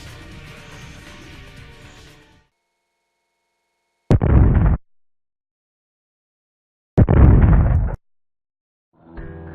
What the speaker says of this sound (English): Keep blasting away with the rocket launcher, dodge, and he shouldn't give you too much trouble.